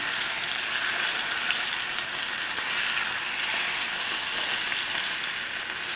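Chicken pieces with wine and capers sizzle steadily in a pan, a close, continuous broadband frying hiss that stays even throughout with no talking.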